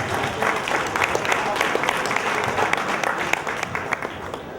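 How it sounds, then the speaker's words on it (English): A crowd at a boxing match claps for both fighters, a dense, steady round of applause filling the hall, with a voice talking over it. "give both these fighters another round of applause, please"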